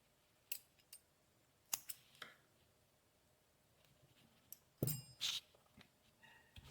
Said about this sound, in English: and then we snip our yarn